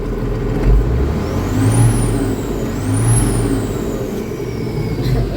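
A large Cummins 8.3 diesel engine in an HTZ tractor roars at full throttle, with a turbo-like whine rising and falling twice over the deep rumble.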